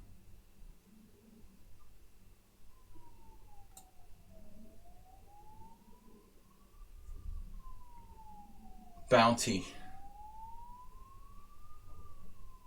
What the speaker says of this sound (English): The ambulances are out for us again.